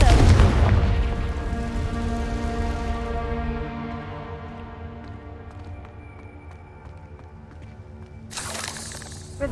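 Confringo spell explosions from the Hogwarts Legacy video game: a heavy booming blast opens, its rumble and ringing decay trailing off over several seconds before another sharp burst near the end.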